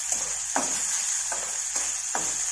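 Sausages sizzle steadily in refined oil in a pan, a constant frying hiss broken by four or five short scraping clatters spaced about half a second apart, close and alone with no voices.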